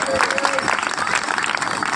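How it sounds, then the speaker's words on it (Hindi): Dense, steady clapping from a crowd at an Ambedkar Jayanti celebration, sustained for a couple of seconds with a voice mixed in. "डॉक्टर भीमराव अम्बेडकर के नाम पर एक बार जोरदार ताली हो जाए।"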